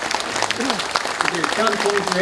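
Audience applause for the police commissioner at the 46th national general assembly of the Korean Retired Police Association, a steady patter of clapping with a speaker's voice continuing over it.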